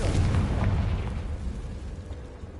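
A Confringo spell explosion in the video game Hogwarts Legacy, a brief muffled boom with a rumbling burst that fades over a couple of seconds.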